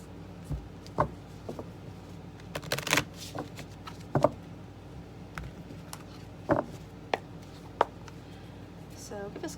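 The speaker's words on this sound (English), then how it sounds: "give me a moment to shuffle these cards here" Tarot cards are shuffled in repeated quick riffles and soft slaps close to the microphone, a string of short papery bursts while a voice talks through parts of it.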